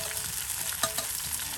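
Stem amaranth greens frying with onion and chili in a pan, a brief close crackling sizzle with a stirring scrape partway through.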